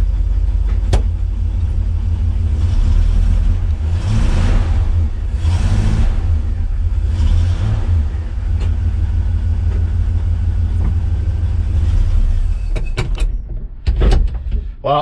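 A 1977 Chevrolet C-10 pickup with a TH350 transmission and torque converter revving in repeated surges as it strains to move, loud and close, with the engine dropping off near the end amid clunks and a brief voice.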